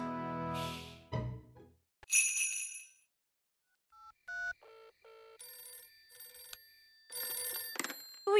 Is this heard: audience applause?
no